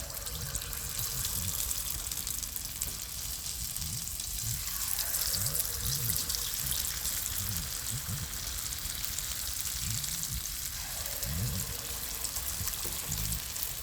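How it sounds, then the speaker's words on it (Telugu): Small coconut and jaggery dough balls frying in hot oil, a continuous bubbling hiss with a steady fizzing texture, close and moderately loud, no voices. "ఆయిల్ బాగా మరుగుతున్నప్పుడు ఈ చిన్ని బౌండాలను ఒకసారి టెచ్ చేద్దాం"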